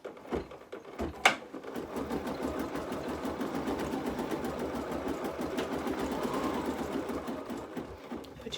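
An embroidery machine stitches with a Schmetz Gold embroidery needle, size 75/11, in a fast, even mechanical chatter that runs steadily at moderate volume after a short sharp clack near the start.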